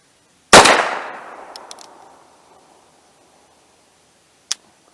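A single sharp gunshot from a Heritage Barkeep .22 revolver at an outdoor range, with a ringing decay lasting about two seconds, followed by a faint click.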